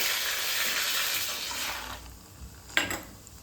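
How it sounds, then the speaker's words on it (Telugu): Chili bajji (mirchi bajji) frying in hot oil, a steady broad sizzle that fades partway through, followed by a short clink or stir near the end. "సిమ్లో పెట్టుకొని మంచి కలర్ వచ్చే వరకు అయితే ఫ్రై చేసుకోవాలి"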